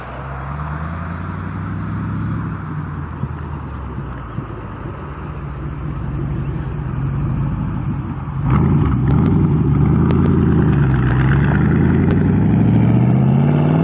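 A Countach replica car fitted with a BMW 4.2 or 4.4 liter V8 runs with a steady mid-range engine drone and some wind noise, then revs louder and rougher toward the end, with no voices.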